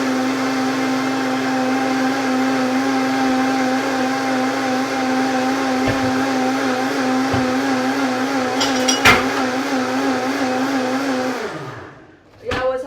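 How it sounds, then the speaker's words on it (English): A blender whirs loudly and steadily while blending chia and matcha in a small container, holding one even pitch for about eleven seconds before spinning down abruptly, with a few clunks partway through. "so let's blend the blender."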